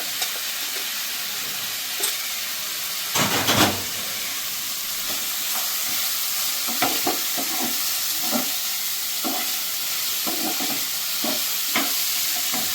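Onions frying in fish oil in a pan, with a steady bright sizzle throughout, a louder burst of spattering around the third second, and repeated short clicks and scrapes of stirring.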